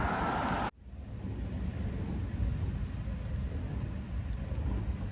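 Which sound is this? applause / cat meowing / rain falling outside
rain falling outside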